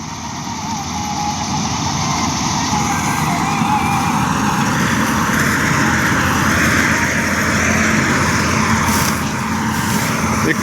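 A Malkit combine harvester works a crop field, its engine and machinery making a loud, continuous droning roar heard up close throughout, with a steady mechanical whine layered over the rumble.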